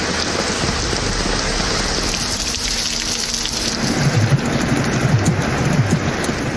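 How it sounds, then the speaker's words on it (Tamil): Heavy monsoon rain pours steadily in Kadamalaikundu near the Vaigai catchment in Tamil Nadu, a loud continuous roar of water on surfaces with heavier splashing drops building toward the end. "கடமலைக்குண்டு மற்றும் அதன் சுற்றுவட்டாரத்தில் சுமார் 1 மணி நேரம் கனமழை பெய்தது."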